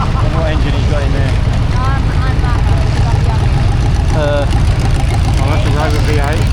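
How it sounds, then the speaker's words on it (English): A Rover V8 engine idles steadily in a miniaturised tractor at a tractor festival arena, a low, loud rumble running underneath nearby conversation. "that's a Rover V8"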